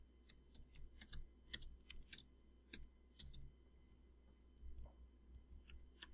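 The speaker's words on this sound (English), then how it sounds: "I'm just going to type my name" A name being typed on a computer keyboard: quiet, irregular key clicks arrive in quick clusters with short pauses between them, close up against a low hum.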